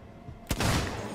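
A single sharp gunshot fires in a video game, a sudden loud crack followed by a rumbling decaying tail over a quiet background.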